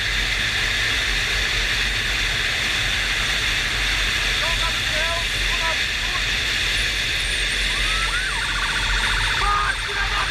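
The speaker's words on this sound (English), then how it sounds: "I know you heard those sirens." Police motorbike sirens wailing in traffic, faint warbling tones rising and falling above a loud, constant roar of road and engine noise.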